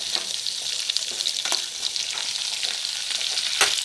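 Tomato and curry leaves fry in a pan for vallarai chutney, producing a continuous bright sizzle with faint stirring scrapes close by.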